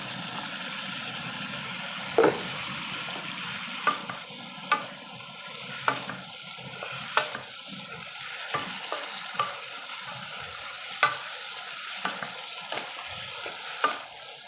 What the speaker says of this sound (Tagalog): So, ilalagay na rin natin yung gulay, carrot at saka cabbage.